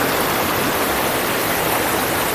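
Water rushing and babbling in a Carpathian mountain stream at a waterfall, a dense, steady, loud roar that fills the whole moment without pause, with no voices.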